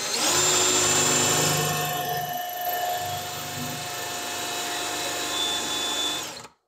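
A power drill bores through wood, with a steady high whine that briefly dips midway as the bit catches, then resumes and stops abruptly near the end; the motor sound is close and alone.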